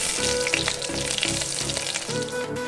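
Eggplant sizzles loudly in hot oil flavoured with dried red chilli and nigella seeds, a dense crackling fry layered with a repeated rhythmic scraping or stirring.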